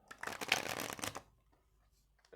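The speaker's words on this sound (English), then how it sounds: "I think they're going to riffle shuffle" A quick riffle shuffle of tarot cards, a dense papery flutter lasting about a second, followed by near silence and a faint tap.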